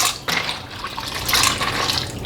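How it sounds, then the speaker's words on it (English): Water pours into a pot of pasta for goulash, a steady splashing, trickling fill that runs close and continuous throughout. "I've added just a little bit extra water"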